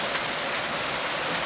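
Rain effect on a film set: a dense, even hiss of falling water patters steadily across the whole short stretch with no pauses.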